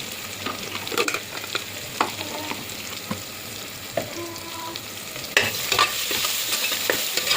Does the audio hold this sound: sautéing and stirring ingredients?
yes